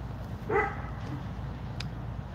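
An 11-year-old injured dog gives a single short yelp or bark with a whimpering tone, fairly close, then quiet low background noise follows with no talking.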